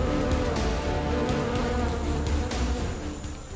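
A swarm of aggressive wild bees attacking during a honey harvest at height makes a dense, continuous buzzing drone, loud and close, with no let-up.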